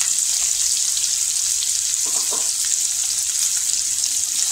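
Finely chopped onion sautéing on low heat in a pan, a constant bright hissing sizzle with a brief stir or clatter partway through.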